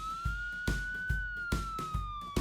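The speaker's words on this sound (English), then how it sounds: "But then, sirens." A police siren wails steadily in a long high tone, close and loud, while sharp thumps and knocks sound through it.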